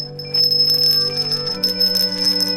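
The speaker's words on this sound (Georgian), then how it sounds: "აი ამ ზარის ხმას გამოყევით, ბავშვებო." A small bell rings steadily with a clear, bright, sustained tone, heard within a told fairy tale about a lonely scarecrow, set against soft background music.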